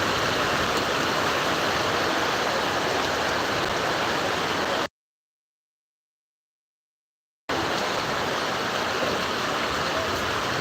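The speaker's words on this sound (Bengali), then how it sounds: "অনেক মানে বৃষ্টি হইতেছে বাইরা" Heavy rain pours down outside, a dense, loud, constant hiss that cuts to total silence for a couple of seconds midway before resuming just as strongly.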